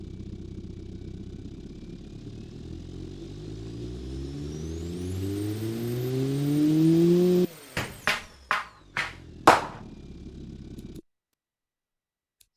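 A turbocharged car engine in BeamNG.drive revs up steadily with a rising whine, then several sharp blips of throttle with turbo flutter, before cutting to silence.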